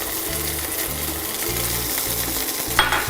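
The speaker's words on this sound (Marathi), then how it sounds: "तर या फोडणीमध्ये हा उकडलेला आणि बारीक कापून घेतलेला बटाटा घालूया." Boiled, finely diced potato goes into a hot oil tempering and sizzles with a steady close frying hiss, a low hum underneath and a faint scrape of stirring near the end.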